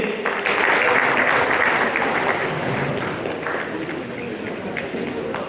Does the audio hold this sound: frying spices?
no